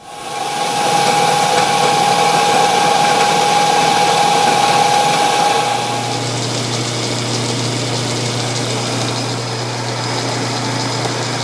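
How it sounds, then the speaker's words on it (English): A milling machine squaring off the end of metal stock held in a vise, a loud steady motor and cutting drone with a high whine that drops to a lower hum partway through, no talk. "I'm just going to square off the end of the stock here."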